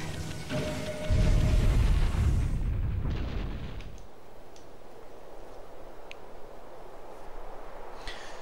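Cannons fire in the video game Okami, a deep booming blast that rumbles loudly for a few seconds and then decays into a quiet background with a few faint clicks.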